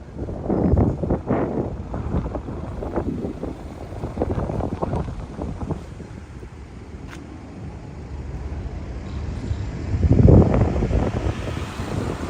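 Wind gusts buffet the microphone beside a river on a morning walk in Tokyo, rumbling in uneven surges with a strong swell near the end and no talking.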